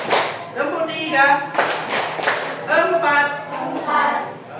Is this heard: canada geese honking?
no